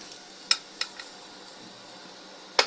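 Lightly browned fried onion is scraped out of a pan into a bowl with the heat off, giving a few sparse spoon scrapes and clinks over a faint residual sizzle, ending in a sharper metallic knock.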